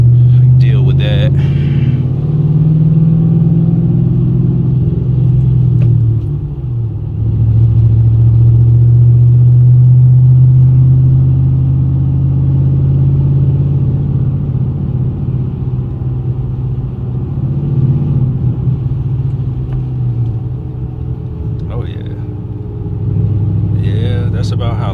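A Ford Mustang GT with SSS Terminators exhaust idles close by in a deep, loud, steady rumble with slight rises in pitch, while voices talk faintly over it.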